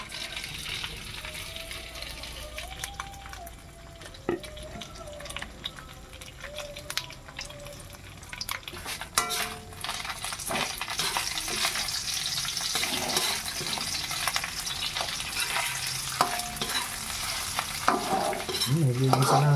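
Chicharon bagnet frying in a hot pan, a steady crackling sizzle with repeated scraping stirs close by, the sputtering growing louder and busier toward the end, no talk.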